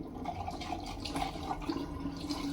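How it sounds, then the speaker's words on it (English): Tap water runs and splashes as a Baili 131 safety razor is rinsed, a faint, close trickle with small irregular splatters. "Just going to do a quick rinse."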